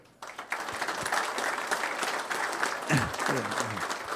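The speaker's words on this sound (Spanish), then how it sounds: "le pido un aplauso para ello" Guests at a Rotary Club meeting in Buenos Aires applaud to honour the flags, a full room of clapping starting abruptly and holding steady, with a voice briefly surfacing toward the end.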